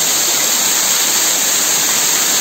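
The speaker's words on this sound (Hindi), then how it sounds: "पानी का फ्लो काफी तेज है" A fast-flowing waterfall roars as a dense, loud, unbroken rush of water heard from very close, with no voices.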